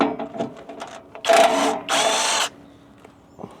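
A power tool zips out engine mount bolts on a Volvo XC90 D5, with two loud whirring bursts of about half a second each amid clicks and clanks of metal nearby.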